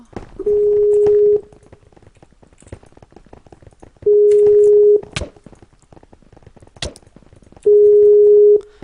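A phone rings in the Minecraft video game: three long, steady electronic tone bursts spaced a few seconds apart, clear and loud over faint background clicks.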